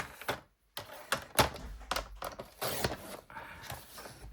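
A paper trimmer blade slices an embossed card panel in half with a few quick scraping, clicking strokes, close and fairly quiet.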